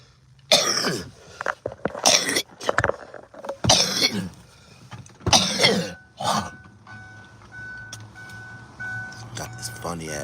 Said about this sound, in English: got this funny ass dry cough